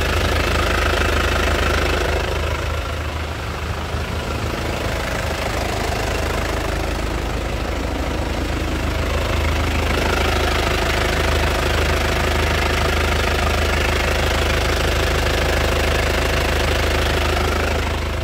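A 2016 Isuzu Panther LS Turbo diesel engine idles loudly and continuously up close, with a steady low rumble and a rough knocking clatter throughout.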